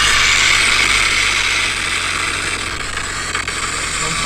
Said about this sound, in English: You hear the turbo, dude?